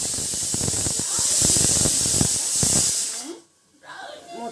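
A pressure cooker loudly vents steam while pongal cooks, a strong, steady hiss that cuts off abruptly near the end. Someone speaks briefly after it stops.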